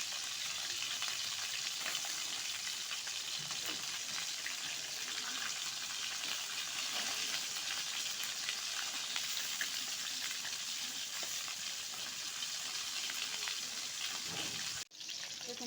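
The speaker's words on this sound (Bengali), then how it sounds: "দেখুন মাছগুলো ভালো করে ভেজে নিয়েছি লাল করে" Snakehead fish pieces fry in hot oil, a steady dense sizzle that runs unbroken at close range with no talking, cutting off briefly near the end.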